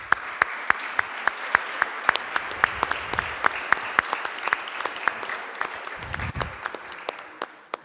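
Sparse, scattered claps from a church congregation on a Sunday, individual sharp hand claps spaced irregularly rather than a full ovation, with faint low murmuring underneath.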